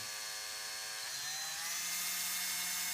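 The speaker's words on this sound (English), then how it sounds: "we'll go straight down and we'll drill" A steady high-pitched electric drill whine runs throughout, its pitch dropping partway as the bit bites straight down into driftwood, with no talking.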